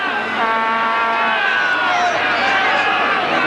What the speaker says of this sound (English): This big crowd here at the Croatian Sports Centre. Really making plenty of noise in these early stages.